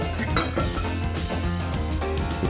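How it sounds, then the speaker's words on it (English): A metal cooking ring is set on a plate while steak tartare is prepared, making close bright clinks and taps of metal on ceramic among other kitchen clatter, with no talking. "Cooking ring on the plate."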